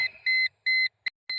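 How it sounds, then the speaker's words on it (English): Loud electronic beeps from a Mercedes C140 during ignition repair, four or five in a row with short silent gaps between them, each a steady high-pitched tone, heard alone. "Sorry for the beeping."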